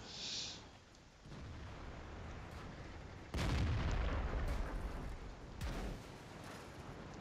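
An IS-7 heavy tank under fire in World of Tanks: heavy, booming impacts strike twice in quick succession over a low, rumbling engine drone, loud and close.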